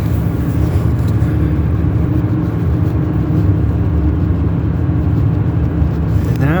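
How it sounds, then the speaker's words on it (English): Inside a pickup truck on a rural road along a flood-prone river, the cab carries a steady low engine drone and road rumble, constant and close, with a faint rising whine creeping in at the very end. "We're inside a pickup truck"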